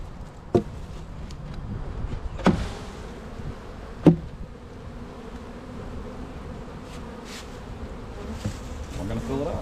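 Honey bees buzzing steadily in a healthy colony as frames are shaken over an open hive, with a few sharp knocks of wood standing out against the constant drone.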